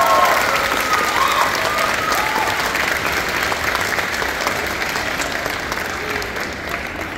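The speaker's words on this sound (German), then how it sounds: "Dein Applaus." Loud applause and crowd noise greet a contestant at a cosplay contest on a waterfront, a dense burst of clapping that slowly fades over several seconds.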